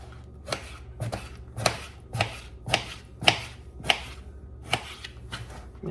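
A knife slicing unpeeled eggplant into half moons on a cutting board, about ten evenly spaced crisp chops in a steady rhythm, close and clear.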